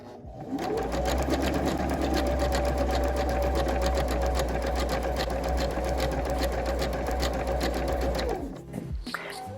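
An electric sewing machine runs steadily for about eight seconds, stitching hems on a homemade prom dress, a loud continuous whirring drone that stops near the end.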